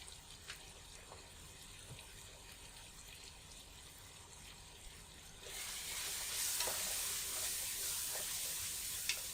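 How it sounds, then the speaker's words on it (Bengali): Tomatoes and spices sauté in a pan, at first with a soft steady sizzle that swells into a louder, brighter hiss partway through, with occasional faint clicks. "টমেটো দুটি দেওয়ার পরে হালকা একটু কষিয়ে নেব।"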